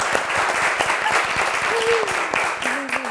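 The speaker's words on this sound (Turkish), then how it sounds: "Kocaman alkışlar." Lively studio audience applause on a Turkish TV word quiz show, close and loud sharp clapping throughout, with a brief faint voice underneath.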